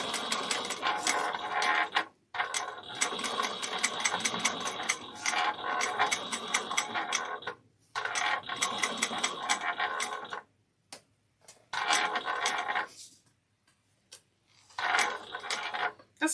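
A sewing machine runs in repeated bursts while stitching a Kandu bag, going back over a section that did not get sewn down; fast, even mechanical clatter stops and restarts several times, with short pauses between runs.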